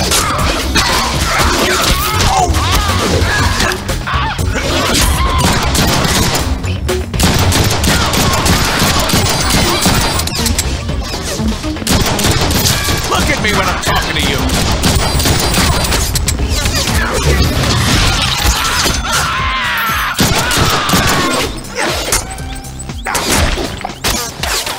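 Dense, continuous gunfire in the Deadpool video game, rapid bursts and crashing impacts layered over a busy action soundtrack, loud and sustained throughout.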